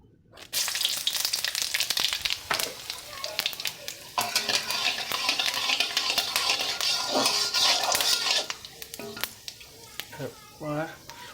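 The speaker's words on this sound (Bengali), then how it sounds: "প্রথমে তেলের ওপরে 5 ফোড়ন শুকনো লঙ্কা দেব" Five-spice seeds and dried red chillies hitting hot oil, a sudden loud crackling sizzle that holds with rapid spattering pops and occasional utensil clatter, easing near the end as voices briefly come in.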